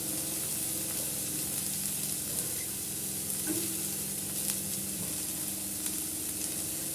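Sliced capsicum and mixed vegetables for veg noodles sauté in a hot pan, giving a steady close sizzle throughout with occasional light scraping stirs and no voices.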